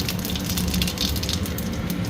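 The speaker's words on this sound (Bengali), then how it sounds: "তেলে জিরে দিয়ে দিলাম" Cumin seeds sizzling in hot oil for a bitter gourd and potato mustard dish, a dense crackling hiss that stays steady and close throughout, with no voices.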